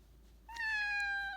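A cat gives a single clear, close meow that rises and holds for just under a second, following a brief quiet stretch with faint background hum.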